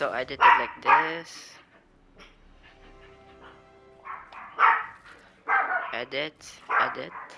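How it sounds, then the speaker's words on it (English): A pet dog yips and barks in the background behind a person talking, a few short bursts scattered among the speech. "Sorry for the background noise. This is my dog."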